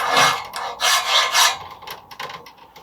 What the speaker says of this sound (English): Now I'm just going to take a file and deburr that.